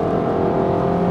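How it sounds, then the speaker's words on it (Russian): A new Japanese car's engine roars under full-throttle acceleration with the pedal floored, a loud, steady, dense drone with no breaks and no speech over it. "когда ты нажимаешь на педаль газа прям в пол, мотор ревет"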